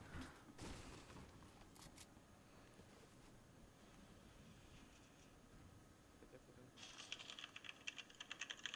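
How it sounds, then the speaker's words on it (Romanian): A computer keyboard clatters in bursts of quick, close key presses during a Fortnite session while people talk, with the densest rapid typing coming toward the end. "Mamă, ce tare mi s se aude tastatura"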